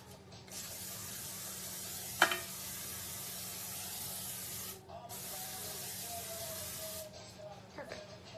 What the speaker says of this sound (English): And I'm going to spray it, that way it comes out all nice and neat